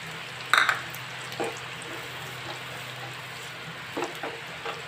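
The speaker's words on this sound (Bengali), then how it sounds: "ভালো করে মশলাটা কষিয়ে নেব আর শিল বেটে রাখা শিল দেওয়া জলটা দিয়ে দিলাম" Mustard-poppy masala is stir-fried in a pan with water added, giving a soft steady sizzle broken by a few scraping stirs of the spatula.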